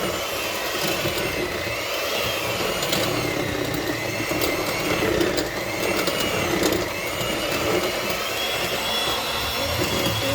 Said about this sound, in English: We just run the mixer around to make it easier to remove the seeds in that membrane.